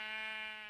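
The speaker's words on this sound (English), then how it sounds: "Sheep. They're not too exciting." A sheep in the Minecraft video game gives a single short, steady, nasal bleat that cuts off abruptly, heard alone and moderately loud.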